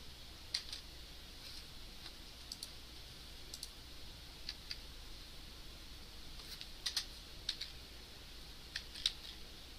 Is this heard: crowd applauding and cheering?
no